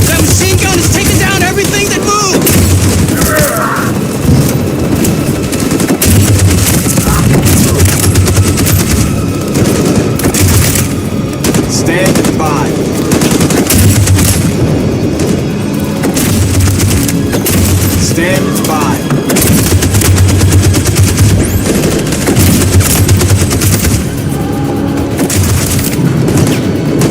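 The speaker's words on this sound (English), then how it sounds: "That machine gun is taking down everything that moves!" Machine gun fire in Detroit: Become Human rattles on without letup through a loud battle, with repeated booms and dense bursts of shots close by, and shouted voices now and then.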